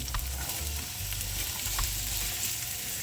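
Onions sauté in a pan for shepherd's pie, a close, steady crackling sizzle with occasional light stirring scrapes and soft clicks, heard alone without talk.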